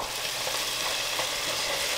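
Minced garlic and lemongrass frying in a pan while being stirred, a steady close sizzle with soft scraping throughout and no talking.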